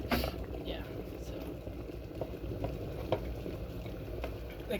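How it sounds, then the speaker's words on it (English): Water boiling in a pot while chicken wings are cooked, a steady bubbling hiss running throughout with occasional small pops, fairly close, with talk over it. "So boiling water, you can kind of see."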